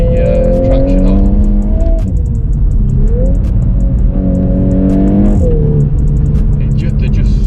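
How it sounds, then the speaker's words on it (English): A VW Golf R MK8 accelerates hard on a closed road with traction control off, its loud engine note climbing through gears with pitch drops at shifts, under a constant roar. "So we'll try some spirited driving on this closed road with the traction off."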